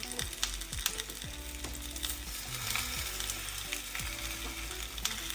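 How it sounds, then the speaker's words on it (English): Whole marinated pomfret fish fries in sunflower oil in a pan over high heat, producing a dense, constant sizzle with crackling pops and a few soft utensil knocks, heard up close without voices. "So your previously marinated fish, you then place it on a pan"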